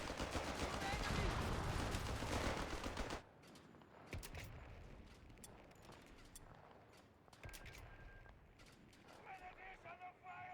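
Infantry gunfire in the World War II strategy game Company of Heroes 3, with dense rattling fire at first, then sparser scattered shots and bursts, and soldiers' voices calling out between them.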